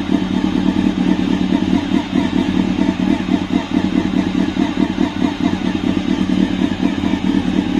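A motorcycle engine idling steadily up close, a constant low rumble with a rapid, even putter and no revving.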